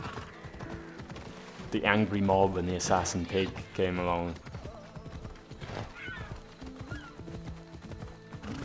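Horse hooves clip-clop along a cliff-edge path in Assassin's Creed Odyssey, a steady galloping rhythm up close with a whinny partway through, and someone talking over it.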